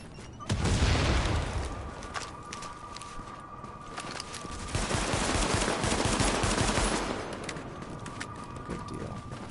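Gunfire in the video game The Division: two bursts of rapid shots with booming impacts, fairly loud, the first short near the start and a longer volley in the middle of the clip.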